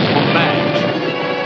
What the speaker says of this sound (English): Detonate the mine.